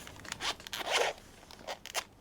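A zipper on a brown PVC leather pouch pulled in several quick strokes, close and crisp, with short pauses between the runs.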